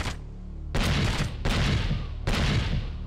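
Three loud, broadband gunshots ring out in James Bond 007: Agent Under Fire during the Evil Summit mission, each a sharp boom with a sustained rumbling tail, spaced roughly every 0.7 seconds after a quiet lead-in.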